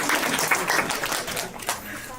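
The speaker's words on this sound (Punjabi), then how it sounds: "ਸਾਡੇ ਲਈ ਵੀ ਤਾੜੀਆਂ ਵਜਾ ਦਿਓ" An audience at a jewellery shop prize-giving event claps in a brief, moderately loud patter while someone talks over it.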